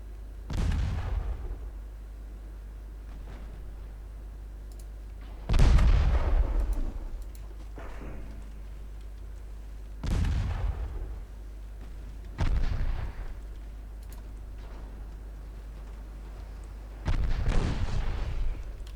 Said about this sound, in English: 5-inch guns from the DD starting to hit